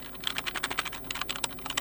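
Someone types on the keyboard of a Motorola Signature phone, producing a rapid, uneven stream of light clicking taps at close range. No one speaks.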